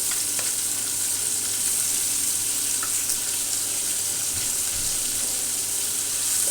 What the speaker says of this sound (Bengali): এটা আমি একটু হালকা ভেজে নিব।